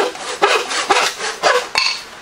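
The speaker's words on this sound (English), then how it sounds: "when you use your woodworking eraser to get rid of the line" An eraser is rubbed briskly back and forth on wood, making four or five short, scratchy strokes in a steady rhythm, close and clear.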